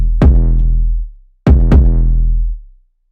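Trap beat kick drum and 808 bass playing without sidechain, two loud punchy hits with a long booming bass tail, then a quick double hit.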